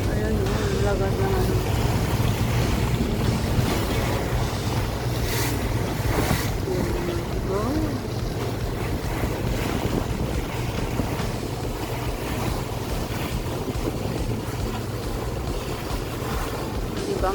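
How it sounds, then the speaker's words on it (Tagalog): Wind roars and waves wash steadily during a night ferry ride across open sea in Hong Kong, with a low engine rumble beneath and voices talking now and then. "Dito na kami sa gitna ng dagat."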